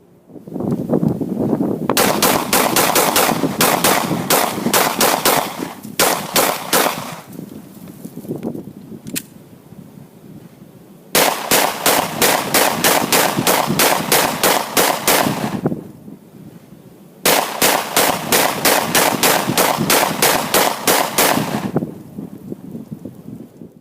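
A Sigma pistol being test-fired at an outdoor range in deteriorating weather: three long bursts of rapid, sharp gunshots, each a dense string of loud cracks, separated by brief quieter gaps with faint background noise.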